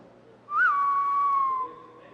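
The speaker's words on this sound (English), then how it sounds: "a somewhat reminiscent whistle" A single clear whistled note from McCree's Deadeye effect in the Overwatch video game rises briefly, then holds steady and slowly falls away over about a second, clean and alone.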